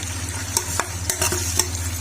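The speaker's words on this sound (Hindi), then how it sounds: "इसके अंदर हम डाल देंगे अदरक लहसुन का पेस्ट 1 चम्मच से ज्यादा। ऐसे हम डाल देंगे। लाइट ब्राउन कर लेंगे।" Ginger-garlic paste fries in a pan while being stirred for a mutton malai korma, a continuous close sizzle with a low hum and quick scraping strokes of the spoon.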